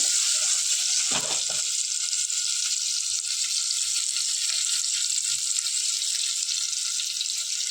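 Stuffed brinjals sizzling steadily in hot oil, a continuous bright frying hiss with a brief stir or clatter near the start, close and unbroken, with no talking.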